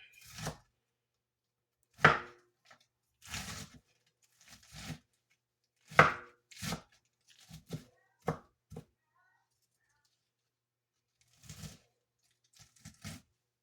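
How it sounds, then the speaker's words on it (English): Lettuce chopped with a knife on a cutting board, a series of sharp, crisp close-up chops in irregular bursts separated by short pauses, with faint handling sounds between strokes. "Alright, we're done chopping our lettuce."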